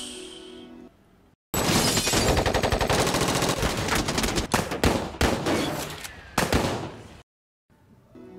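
Long, loud bursts of machine gun fire rattle in rapid volleys for several seconds, with brief pauses between strings of shots, close and harsh, in a dramatized Bonnie and Clyde ambush.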